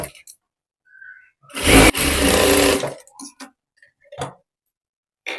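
A sewing machine runs a basting stitch to attach a strip onto a blouse, one loud steady burst of about a second, surrounded by quiet clicks and handling of fabric.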